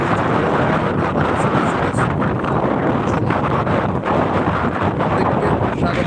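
Wind at the beach of New Digha on an overcast day after rain, a constant loud roar buffeting the microphone for the whole stretch, with no clear voices.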